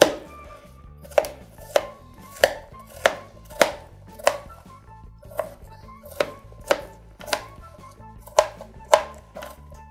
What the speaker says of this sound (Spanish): Vamos a cortar en cubitos